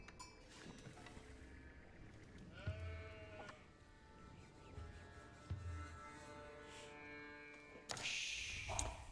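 Sheep bleat in Age of Empires IV during a ranked Delhi versus HRE match on the Highview map, amid game effects and ambient tones. A short burst of louder game sound arrives near the end.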